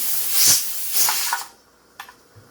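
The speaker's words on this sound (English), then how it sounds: "that's steady steam" A pressure canner processing tomatoes releases steady steam, heard as a loud, close hiss that surges and fades over a second and a half, followed by a few faint clicks and a quiet background.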